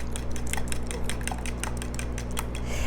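A fork clinks rapidly against a bowl while ingredients for apple stuffed French toast are mixed, a quick steady run of light metallic taps over a constant low kitchen hum.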